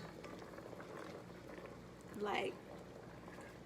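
Rice water boils in a pot with a steady low bubbling and hiss throughout, a brief louder bubble burst near the middle, while a person speaks briefly over it.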